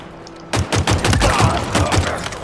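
Rapid bursts of gunfire from Halo Infinite Social Slayer multiplayer combat erupt after a brief quiet start, loud repeated shots in close succession forming a steady fusillade.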